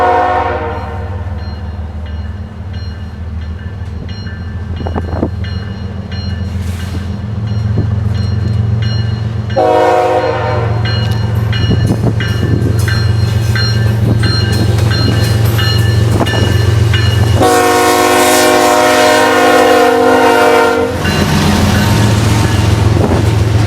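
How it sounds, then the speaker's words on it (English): BNSF 7909 leads an eastbound manifest freight into the IHB yard on Chicago's East Side, a steady close rumble and clatter of cars with repeated long horn blasts, the last one loudest. "BNSF 7909 leads a manifest east into the IHB yard"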